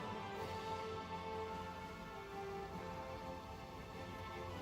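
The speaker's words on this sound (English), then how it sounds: "It's raining, it's pouring." Steady rain from the Hearts of Iron IV strategy game, a dense, even patter of drops sustained at constant level throughout with no talk over it.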